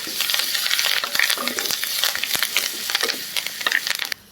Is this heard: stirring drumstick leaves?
yes